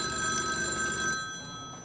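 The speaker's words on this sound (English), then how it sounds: "we are getting a phone call" A telephone rings with an incoming call in a live TV news studio, a steady electronic ring heard clearly for about a second before it cuts off and fades.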